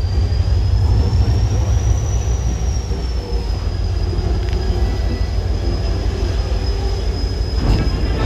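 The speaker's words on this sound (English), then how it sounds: "The train will start and stop without any further information." New Hope and Ivyland heritage railroad train moving on its tracks, a loud steady rumble of wheels with a sustained high metallic squeal running over it.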